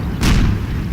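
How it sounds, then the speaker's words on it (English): A single cannon shot from an M1 Abrams tank in the wargame Combat Mission: Shock Force, a heavy boom with a sharp crack at its onset that fades into a low, rolling rumble. "Have the Abrams tanks in the center exchanging fire."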